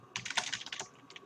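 Quick burst of typing on a computer keyboard, a dozen or so close, light key clicks in about a second.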